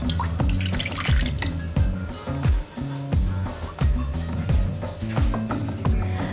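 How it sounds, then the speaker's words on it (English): Water from a cup is poured into a pot of mangoes being made into mango con miel, a close, continuous splashing and trickling with a few drip-like accents; no one speaks. "Add in 1 cup of water."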